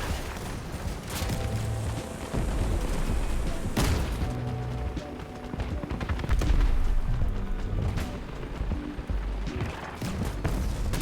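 Missile launchers and other weapons fire in the Crossout vehicle combat game, a dense run of booming shots and blasts over about eleven seconds with steady battle noise underneath and no talk.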